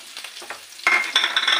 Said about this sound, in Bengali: এবার কড়াইতে দিয়ে দেবো। কড়াইতে দিয়ে দেবো হচ্ছে কিনা পেঁয়াজ কুচি, রসুন কুচি